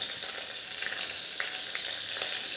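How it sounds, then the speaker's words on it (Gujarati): Chopped garlic, green chillies and onion sauté in a pan, giving a steady close sizzle of frying with a few soft stirring clicks and scrapes, no talking. "આને થોડું આપણે સાંતળી લઈશું।"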